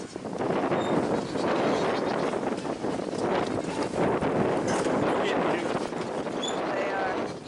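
Strong outdoor wind buffets the microphone in a continuous loud roar with gusty swells, while people talk underneath.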